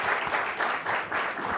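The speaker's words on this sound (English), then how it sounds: "give her a round of applause." A small audience at a public meeting gives a short burst of steady, dense applause, moderately loud and with no voices over it.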